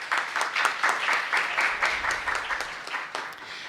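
An audience at an academic panel on education research applauds the participants as each is introduced, a dense burst of clapping from many hands that carries on throughout and slowly thins out.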